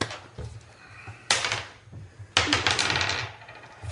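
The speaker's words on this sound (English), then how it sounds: "Roll one dice." Dice roll during a two-player tabletop game, clattering onto a surface in two distinct bursts of rattling impacts, each fading into short skittering taps.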